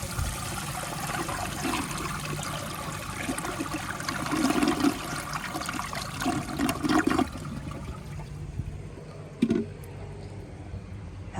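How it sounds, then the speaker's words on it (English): A 1977 Universal-Rundle Citation toilet with an overfilled tank flushes in a steady watery rush that runs for about seven seconds. Gurgles break through the rush, then it fades to a quieter trickle as the tank refills. "so here's a flush."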